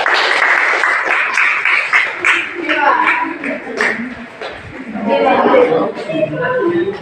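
A classroom group claps for another group's answer, a close burst of scattered, uneven applause mixed with chatter and talking voices, fading and then swelling again.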